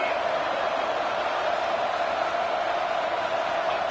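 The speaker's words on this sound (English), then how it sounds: "This crowd is trying to inspire this defense to make a big red zone stop." Stadium crowd roar from a college football video game, North Carolina versus Kentucky, a steady dense wash of cheering noise holding at the same loudness throughout with no clear voices.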